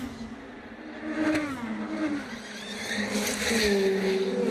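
An IndyCar race car loses grip, its engine note rising and falling as the tires squeal and skid, with a second car's revving joining in, all heard from a moderate distance.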